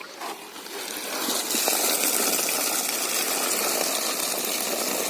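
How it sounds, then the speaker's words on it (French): Water poured from a watering can onto a garden bed being built up in layers over cardboard, a steady broadband splashing and gushing that runs continuously at fairly even loudness throughout. "Et maintenant, on arrose."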